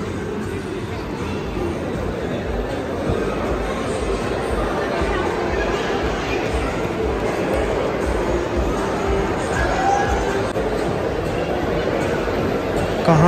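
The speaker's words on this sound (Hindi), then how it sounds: "आज संडे वैसे भीड़ है" A busy shopping mall on a Sunday, with a dense wash of crowd chatter and footsteps echoing steadily throughout, voices blending into a constant indoor murmur.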